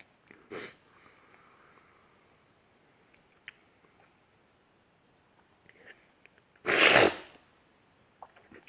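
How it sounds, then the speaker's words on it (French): A quick nasal sniff from someone with a starting head cold near the start, quiet stretches with faint rustles, then a loud, congested snort or sniff later on. "Excusez-moi si je renifle, mais je commence à être un peu enrhumé."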